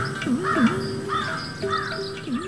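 A crow caws repeatedly, several harsh, nasal calls close by in an uneven rhythm, loud and clear against a quiet background with no talking.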